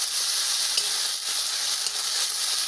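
Onion with ginger, cumin and chili paste sizzles loudly and constantly in a pan as it is mixed, a dense close frying hiss with faint stirring movements and no talking.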